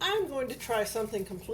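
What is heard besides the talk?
No distinct noise like a dog, phone or traffic.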